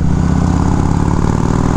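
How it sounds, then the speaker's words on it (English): A 1979 Harley Davidson FLH Shovelhead motorcycle engine running close by, a loud, steady low rumble with a rapid pulsing beat and no voices over it. "Listen to that engine."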